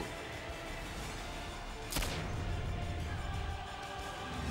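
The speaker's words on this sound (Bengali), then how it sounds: "সেখানেই হঠাৎই বোমার শব্দ" A single sharp bomb blast cracks out once during a street protest on a Kolkata road, loud against a constant background of crowd and street noise, with a rumbling tail afterward.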